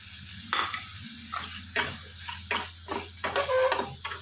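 Turmeric and Kashmiri chilli powder frying in a pan for a paneer dish, with a low background sizzle broken by a series of sharp, close stirring scrapes and clacks of a spatula, and no talking.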